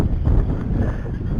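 Gusty wind buffets the microphone with a low, rumbling roar outdoors where an E-flite Sea Fury RC plane is being flown, with no other clear sounds.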